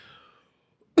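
A single short, sharp cough bursts out at the very end after near silence, close and fairly loud, from a person pausing mid-conversation.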